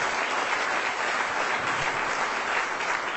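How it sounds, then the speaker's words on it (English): Loud, steady round of applause from a crowd at a corporate awards ceremony in Goa, thick continuous clapping that holds its level throughout without any talk. "A bigger round of applause, please."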